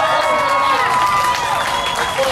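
Crowd noise at a housing justice rally, with clapping, cheers and mixed voices blending into a loud, steady roar that holds for the whole moment.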